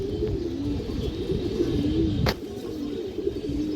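A female pigeon coos close by, low rolling calls repeating over a murmuring background, with one sharp click midway through.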